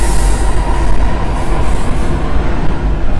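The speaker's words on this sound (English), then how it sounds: "I like trains. It's a pretty train." A train runs inside the Cry of Fear video game, a steady, loud rolling rumble with a faint rattling clatter that carries evenly throughout, with no voices over it.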